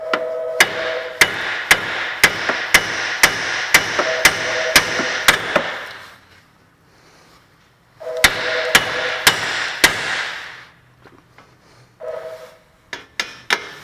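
Repeated sharp metallic hammer blows strike the side of a steel steering knuckle in a steady rhythm, pausing briefly, then resuming with more loud, ringing clanks close by.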